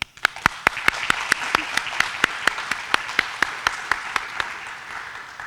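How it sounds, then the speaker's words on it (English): An audience at a college honors forum applauds steadily, a continuous bed of clapping with one loud, sharp clap striking near the front at a regular beat above the rest. "join me in giving a round of applause for our support systems"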